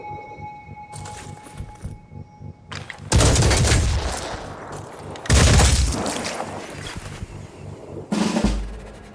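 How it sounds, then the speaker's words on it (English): Gunfire in the tactical game Phoenix Point comes as loud, heavy volleys: a couple of sustained booming bursts with echoing tails, then a shorter blast near the end, after a quieter stretch with scattered clicks. "Opening fire."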